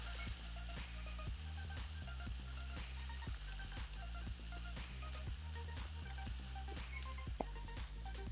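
Steak searing in a frying pan gives a loud, steady close sizzle, with light scraping and stirring taps scattered through it. No one talks.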